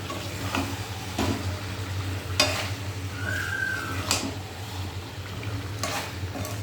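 Chicken fries in a pan on a low gas flame and is stirred often so it won't stick. A soft continuous sizzle runs under it, and a spoon scrapes the pan at regular intervals.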